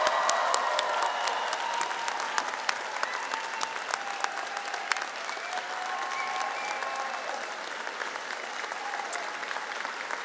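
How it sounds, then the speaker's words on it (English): Steady, dense applause from a large crowd honouring the Cape Breton University Spring 2025 graduating class at a convocation ceremony, sustained and even with sharp individual claps standing out. "Please join me in a warm round of applause for the Cape Breton University Spring 2025 graduating class"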